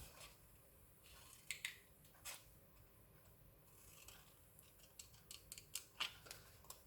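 Scissors cutting through card for a handmade easel card, quiet close-up snips and rasping slides of the blades, with a few sharper crisp cuts toward the end.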